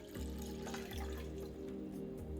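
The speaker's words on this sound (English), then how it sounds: "pouring in our 4 cups of water" Water pours steadily into a 1.5-quart metal saucepan, a continuous splashing rush with a faint rising ring as it fills.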